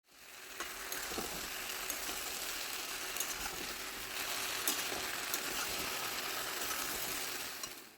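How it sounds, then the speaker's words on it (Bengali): Poppy seed paste being gently stirred into vegetables for Bengali shukto, a soft steady sizzle from the pan with occasional scraping and clinking of a spoon, close and without voices. "এখন পোস্ত বাটাটাকে সবজির সাথে হালকা হাতে মিশিয়ে নিতে হবে"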